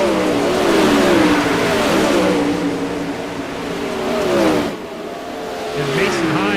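Several 360 sprint cars roar around a dirt racetrack at the Mike Westbrook 360 Nationals, a dense, sustained engine drone with shifting pitch as they race, heard from the stands under a race announcer's commentary.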